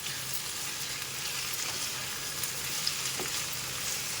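A pot of tomato dal being stirred while cooking gives off a continuous soft sizzle and bubbling hiss, close and even, with faint scrapes of stirring and no voices.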